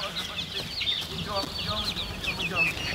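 A turkey hen on a farm gives a string of short, nasal clucks and chirps, fairly close and moderately loud, over steady background noise.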